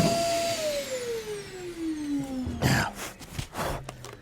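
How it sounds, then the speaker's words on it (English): A vacuum cleaner with weak suction runs with a descending whine as the motor winds down, then gives a few short bursts of noise and clatter, close and fairly loud. "We definitely lost vacuum power."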